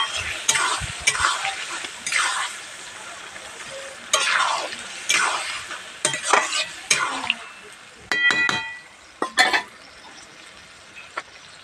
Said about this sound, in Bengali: আবারও ভালোভাবে নাড়াচাড়া দিয়ে দেবো।